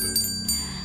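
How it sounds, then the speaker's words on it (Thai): A notification bell chime rings twice in quick succession, bright and clear, with a short metallic ring-out. "กระดิ่งหรือระฆังนะคะเพื่อเป็น notification แจ้งเตือน"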